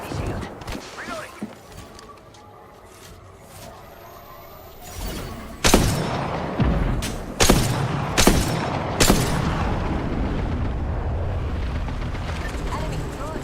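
Gunfire in the battle-royale shooter Apex Legends: loud, close cracking shots land in a cluster of four or five bursts midway through, over a busy game soundscape with a player's voice talking beneath.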